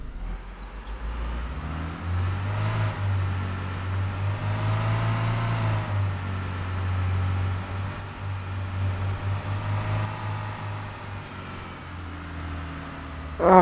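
A car drives steadily in the video game Arma 3, a continuous engine drone rising and easing with small rev changes over a low road rumble, heard alone throughout.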